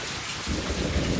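Heavy rain pours in a steady, dense hiss, with a deep rumble joining partway through, like thunder or rain hammering a surface. No talking is heard.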